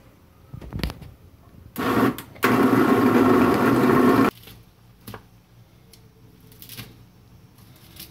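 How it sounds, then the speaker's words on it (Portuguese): A newly bought black kitchen blender runs in two loud bursts, first a short pulse and then a steadier whir lasting about two seconds, before the room falls quiet again. "é o liquidificador preto que eu comprei"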